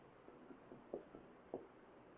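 A pen scratches out a maths axiom during a geometry lesson, with a few soft, distinct strokes and taps against a quiet background.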